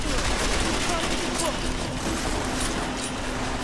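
Rapid bursts of gunfire from a firearm in the Deus Ex: Mankind Divided video game, dense and continuous with a steady hum beneath, with a voice talking over it.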